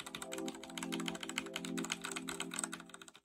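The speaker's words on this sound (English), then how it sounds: "Here's the typing sound of the keyboard as is." Someone types on the stock keyboard of an old Wyse WY60 terminal, producing a fast, close run of clacky keystrokes with no talking.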